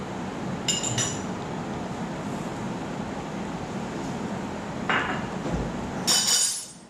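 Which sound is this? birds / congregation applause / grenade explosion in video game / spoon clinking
spoon clinking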